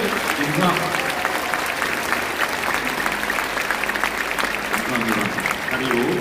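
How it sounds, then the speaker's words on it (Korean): Warm, sustained applause from a church congregation at a pastoral ordination service, dense and steady throughout with a faint voice beneath. "정말 뜨거운 박수로 또 축하해 주시고 응원해 주시기 바랍니다"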